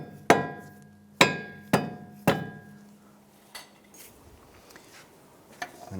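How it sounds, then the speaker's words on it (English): A rubber mallet taps a steering knuckle onto the strut of a 2001-2007 Ford Escape: four sharp, close knocks about half a second apart, then a few fainter taps and quiet shop noise. "Go ahead and use our rubber mallet. Give that a few bonks."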